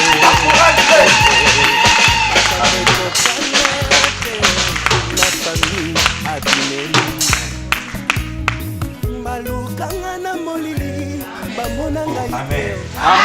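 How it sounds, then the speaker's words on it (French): Church congregation clapping together during worship in an evangelical church in Lyon: dense, loud rhythmic applause from a crowd, mixed with voices and music, fading toward the end. "Applaudissons le Seigneur"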